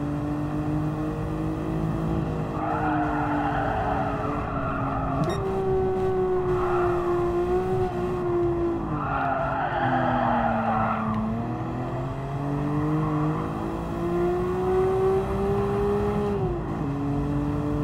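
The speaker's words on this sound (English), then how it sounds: "I don't actually know how to not drift at that corner." A Nissan Skyline drifts through a corner at Brands Hatch in a racing video game, the engine droning steadily with long bursts of tire squeal swelling and fading twice, loud and continuous.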